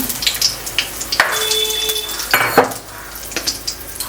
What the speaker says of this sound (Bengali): লঙ্কা কিন্তু কিন্তু ফুটছে মানে কড়াইটা এতটাই গরম হয়ে গেছে